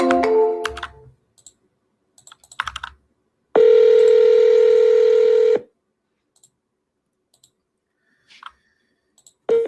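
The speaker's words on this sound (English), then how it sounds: "I'm just gonna give this lady a call." A phone call is placed with a few beeping dial tones, followed by a loud, steady two-second ringback tone. Faint clicks follow, and the clip ends on another short tone.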